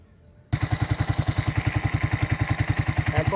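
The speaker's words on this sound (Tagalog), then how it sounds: "papaanda rin po natin yung motor" A motorcycle engine starts abruptly after a quiet moment and settles into a loud, close, rhythmic putter with evenly spaced pulses that keep going without pause.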